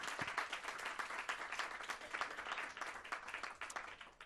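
Conference audience applauding steadily at a French mayors' association event on urban planning and waste management, a dense, even wash of many hands clapping throughout with no talk over it.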